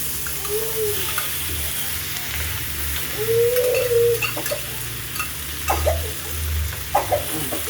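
A sautéed ground paste for a horse gram rasam goes into a hot frying pan and sizzles steadily, with stirring scrapes and light clinks of utensils close by, under a constant background hum.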